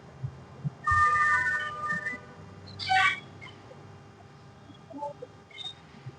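A mobile phone ringtone chimes in a classroom during a maths lesson, two short melodic bursts a couple of seconds apart, clear but not loud against a quiet room.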